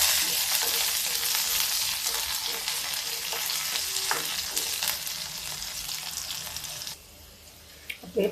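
Sliced onion rings fry lightly in oil in an iron kadhai, a steady broadband sizzle with occasional stirring scrapes that drops abruptly to a quieter hiss near the end.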